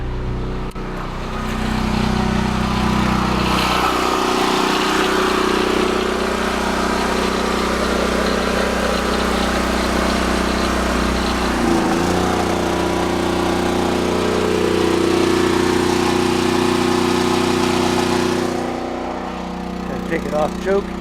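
A backup generator engine runs steadily at close range while a battery charger is tested, giving a continuous mechanical drone with a constant low hum throughout.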